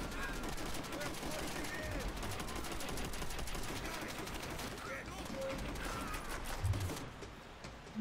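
Call of Duty World at War gameplay with sustained rapid gunfire and machine-gun bursts forming a dense continuous battle din, with a voice talking over it.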